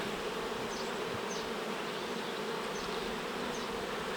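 A dense, steady drone of many honey bees buzzing together at the hive, constant and close, with a few individual insects whining past.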